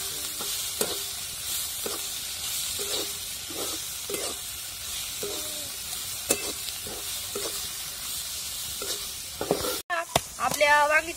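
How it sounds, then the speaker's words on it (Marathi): Onion, green chili and coriander sizzle in a pan over a wood-fired stove, a soft continuous fry punctuated by rhythmic spatula scrapes and taps, with a voice briefly heard near the end. "कांदा सगळं परतून घ्यायचं"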